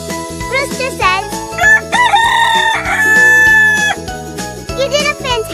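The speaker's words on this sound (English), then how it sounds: "Rooster says." A rooster crows loudly in a long drawn-out call, close and clear, with brief clucks and a voice around it.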